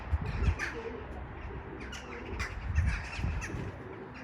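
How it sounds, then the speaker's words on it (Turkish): Crows cawing and pigeons cooing in a noisy crowd around a coop on a windy morning, repeated calls at varying distances over a background of wind. "Güvercinler, kargalar,"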